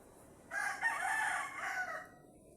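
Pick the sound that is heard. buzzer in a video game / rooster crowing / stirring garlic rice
rooster crowing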